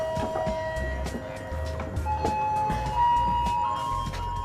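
An old restored tourist steam train, the Sepur Kluthuk Jaladara, runs nearby with a continuous mechanical rumble, rhythmic clanks and knocks, and sustained tonal whines and whistling tones, with no talk.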